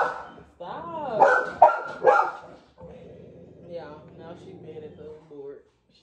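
A dog barks in a few sharp, close yelps in quick succession, followed by a person talking.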